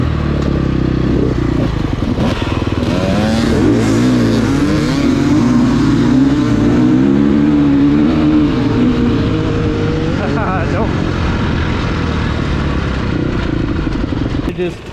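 Several dirt motorcycles at a holeshot start practice revving hard together in rev bombs, engines rising and falling in loud overlapping pitch sweeps that stay close and continuous, with people talking underneath.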